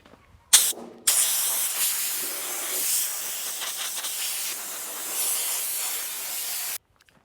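Close, steady hiss of a spray gun laying down epoxy primer in a home garage during a Duramax truck build, running for several seconds after a brief trigger burst and stopping abruptly.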